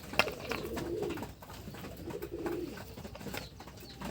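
Domestic pigeons coo softly in low, rolling phrases, repeated a few times at a faint, close range in a pigeon loft where drinking water is being set out.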